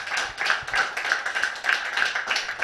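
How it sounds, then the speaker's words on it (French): Audience clapping to welcome a guest at a children's rights day celebration, a steady patter of many hands for under three seconds with a faint tonal hum running through it, no talk over it. "notre invité que nous allons appeler et applaudir"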